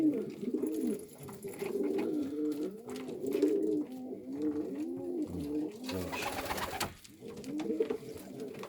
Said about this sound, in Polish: zajechany gołąb.